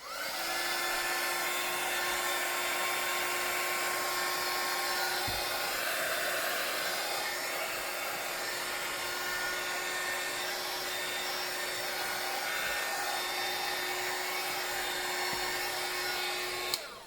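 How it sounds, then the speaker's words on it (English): A heat gun drying a painted printer's tray blows a loud, steady whirring rush of air with a constant motor whine for the whole stretch, close by, without pauses. "I'm just going to bring in my heat gun for 2 seconds, dry this off a little bit."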